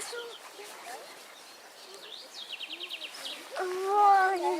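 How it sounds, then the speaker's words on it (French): Several birds chirp and trill from a distance, including a quick run of repeated notes, with soft insect buzz in the background. "J'entends le cri des oiseaux."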